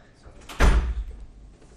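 A door closing with a single dull thud, fairly close, against a quiet room background.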